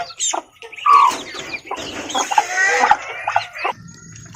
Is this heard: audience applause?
no